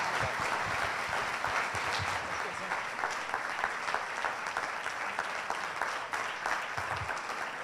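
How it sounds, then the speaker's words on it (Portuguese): Church congregation clapping steadily to welcome a pastor, a dense continuous applause filling the room at even volume throughout, with a few scattered voices mixed in. "Vamos recebê-lo aplaudindo a Jesus."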